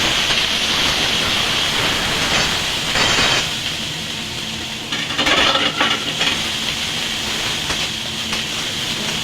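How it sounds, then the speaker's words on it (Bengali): Onion, ginger and garlic paste sizzles in hot oil for aloo chop filling, a steady loud crackling hiss with a few brief louder bursts throughout. "তেলটা গরম হয়ে গেছে আমি পেঁয়াজ বাটা আদা বাটা রসুন বাটা দিয়ে দেব"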